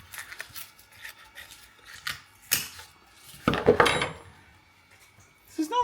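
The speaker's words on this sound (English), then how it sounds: "Let's chop that filter off. Let's have a look. Let's just cut through that." A power steering fluid filter from a Land Rover Freelander 2 being cut open with a tool, giving scattered scraping, snipping and metallic clicks, with a louder crunching cut near the middle.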